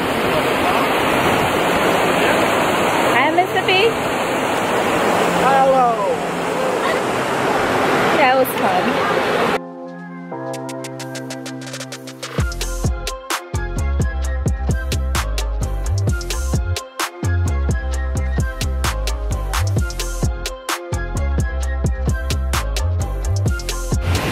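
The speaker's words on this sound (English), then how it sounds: "it's like quiet and peaceful you can hear the water the falling water it's really nice" Falling water at a waterfall in Ohiopyle State Park, Pennsylvania, makes a steady broadband roar for about ten seconds before music takes over for the rest.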